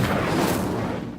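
A fire spell cast in the Hogwarts Legacy video game, a dense roaring burst of flame with a heavy low rumble that swells and then slowly fades over about a second, loud and close, with no talking.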